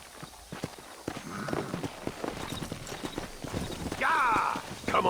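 Horse hooves clip-clop at a steady walking pace on a dirt path in the Western video game Red Dead Redemption, close and continuous, with a horse snorting and whinnying near the end.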